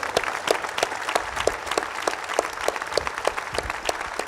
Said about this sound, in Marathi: पहिल्यांदा ताईसाठी जोरदार टाळ्या होऊ देत